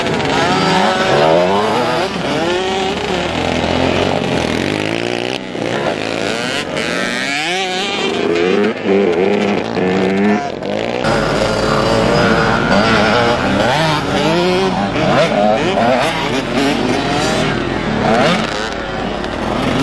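A motocross motorcycle engine at a motocross lesson in Saint-Pée-sur-Nivelle revs and drones loudly, pitch rising and falling as the rider shifts and accelerates, close to the microphone throughout.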